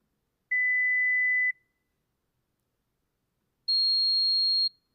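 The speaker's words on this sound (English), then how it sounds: "They're called pure tones." Two synthetic pure tones sound one after another, each a clean steady beep about a second long, the second higher than the first, separated by silence.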